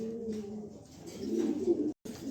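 A courting pair of pigeons coos steadily and close by, low throaty rolling calls running almost without pause before a brief silent gap near the end.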